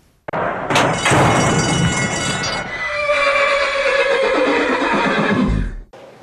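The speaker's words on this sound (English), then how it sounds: "you're with a horse here, Candice, by the name of?" A horse at a Queensland race meeting gives a loud, close whinny that rises sharply, then trails off in a long, wavering neigh lasting several seconds, with no talking over it.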